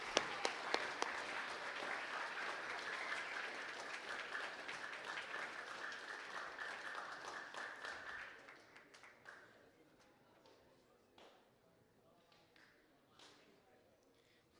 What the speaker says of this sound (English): Can I please have a round of applause to all those award recipients?